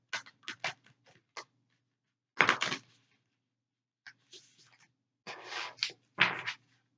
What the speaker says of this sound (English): I need one good shuffle where it's like they all actually shuffle